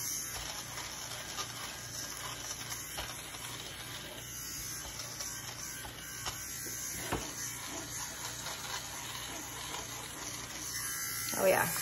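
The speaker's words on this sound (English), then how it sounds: "this is gonna look way better just hitting it with the sweater shaver really quick" A battery fabric shaver runs continuously while de-pilling a sweater, giving a steady close buzz with a high whine and faint rasping as it passes over the knit.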